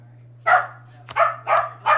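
A dog gives four short, moderately loud barks in an uneven rhythm, heard alone over a steady low electrical hum.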